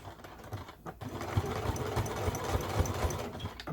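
A sewing machine stitches the bottom of a simple wallet, close and rhythmic with quick repeated needle thumps running steadily throughout.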